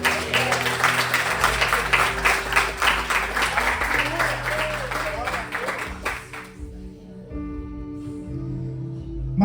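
A church congregation applauding, a dense sustained clapping that fades out after about six seconds, leaving a quiet hum.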